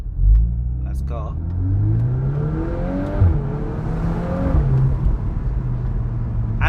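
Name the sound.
2024 VW Golf 8 R accelerating hard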